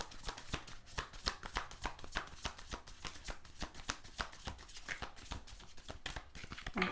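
Tarot cards shuffled by hand in a steady run of quick papery riffles and taps, close and fairly loud, continuing without pause and with no voices.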